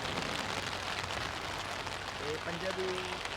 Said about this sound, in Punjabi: ਇਹ ਮੀਂਹ ਬਾਲਾ ਤੇਜ਼ ਆ ਗਿਆ